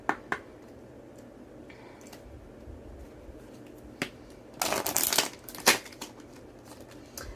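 A Moonology oracle card deck is shuffled nearby in quiet surroundings: a few soft taps at first, then a burst of crisp riffling flutters with sharp snaps, followed by a couple of isolated clicks.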